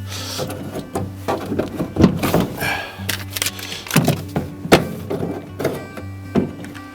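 A Sprinter van's driver's door is handled, with a series of irregular thunks, knocks and rattles of panels and items being placed, close and fairly loud with no talk.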